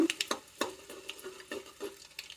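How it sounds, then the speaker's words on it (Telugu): Garlic, mustard seeds and dried red chillies fry in hot oil, with a spoon stirring and scraping the pan in quick irregular clinks over a soft sizzle, close up and with no talking. "తుంచి పెట్టుకున్న ఎండుమిర్చి కూడా వేసుకొని బాగా వేయించుకోవాలి"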